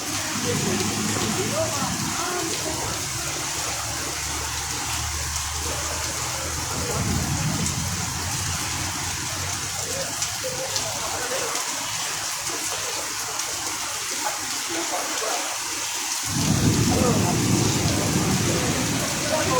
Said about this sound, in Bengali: কিন্তু যাই বলো, বৃষ্টিটা হেভি হচ্ছে।